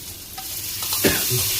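Spices fried and stirred in a hot pan with turmeric powder, a steady sizzle with a brief scraping sweep of the spoon partway through, close and continuous with no talking.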